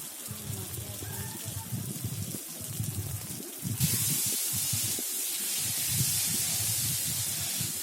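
Chopped tomato and salt tipped into frying spice paste set off a steady hissing sizzle that jumps louder midway and keeps spraying, with a voice talking faintly underneath.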